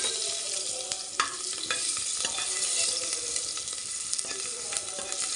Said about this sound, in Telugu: ఈ వెల్లుల్లిపాయలు కూడా వేసి వేయించాలి.